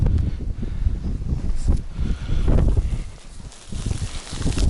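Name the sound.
wind blowing on the water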